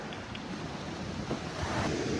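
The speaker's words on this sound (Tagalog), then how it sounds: "Dagat." Sea waves wash onto a white sand beach at a camping and surfing resort, giving a continuous broad rushing surf close by, with some wind buffeting the microphone and no speech.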